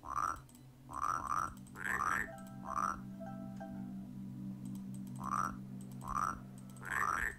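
A frog croaks in the Rusty Lake Paradise game, a run of loud, close, rasping calls that come in pairs and short bursts over a steady low ambient drone, with a faint electronic tone between calls.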